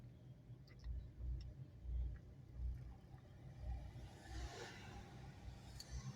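Road traffic idles and rolls slowly at a raised drawbridge, a low engine rumble swelling and fading with passing cars, faint and steady, with no talking.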